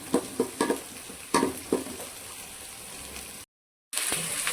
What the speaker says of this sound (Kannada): ಕಲರ್ ಚೇಂಜ್ ಆಗೋ ತನಕ ನಾವು ಫ್ರೈ ಮಾಡ್ಕೋಬೇಕು.